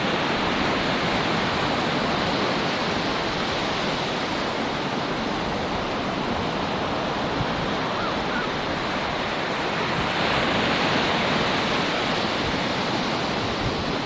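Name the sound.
ocean waves breaking on the shore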